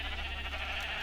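Sheep bleating in a video game with the Dead Society plugin, a steady, fairly loud animal cry with no talking over it.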